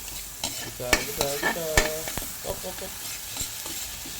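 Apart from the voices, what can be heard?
sautéing kangkong in a pan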